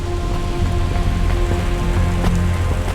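Steady rain pours down in the rain-soaked city of the video game Cloudpunk, a continuous dense hiss of drops on surfaces with a faint low tonal hum beneath and no talking.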